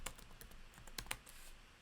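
Quick, quiet taps on a computer keyboard during typing, a short irregular run of soft clicks close to the mic.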